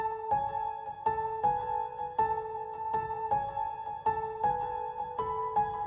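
Piano melody processed with drip, stereo shaper and delay effects, repeated notes struck about once a second with a soft airy tail and low rumble beneath, calm and alone without speech.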